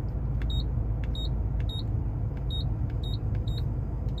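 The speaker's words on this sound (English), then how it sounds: "And it beeps just like a microwave too." The flat climate-control buttons of a 1990 Mitsubishi Sigma give a series of about nine short, high, microwave-like electronic beeps at uneven intervals over a steady low cabin hum.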